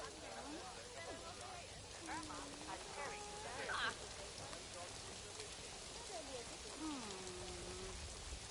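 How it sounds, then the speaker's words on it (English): Steady rain hiss fills a video game scene in Planet Zoo, a constant broadband wash from start to finish, while a voice talks over it. "Uh-oh, more rain."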